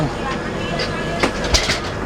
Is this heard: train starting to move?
yes